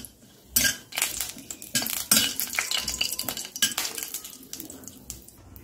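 Bay leaf, cloves and cardamom frying in ghee for mutton keema come through as a faint sizzle under frequent metallic clatter and spoon knocks against the pan, close and irregular with no talking.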